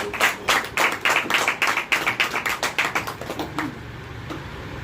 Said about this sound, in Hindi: अब दूसरे कलमे की तरफ बढ़ते और सिस्टर मैरी को आपकी भरपूर तालियों में